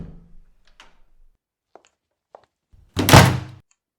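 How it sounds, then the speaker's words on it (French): A door slammed hard shut in a quiet room: a few faint ticks and taps, then one loud, booming thud that rings briefly before dying away. "Et madame, claquant fort la porte"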